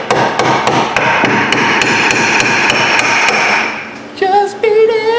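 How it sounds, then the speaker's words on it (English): Sharp metal hammer blows on a Hyundai Elantra's rear brake rotor in a rapid, steady series ringing out up close, followed by a couple of higher clangs and scraping. "Get a hammer and do the Michael Jackson"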